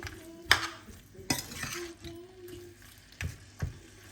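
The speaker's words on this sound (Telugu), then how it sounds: "టొమాటో వేసుకొని బాగా మిక్స్ చేసుకోవాలి" Chicken fry with tomato is stirred in a pan, giving a handful of sharp utensil clinks and scrapes against the metal at an uneven pace over a low background hiss.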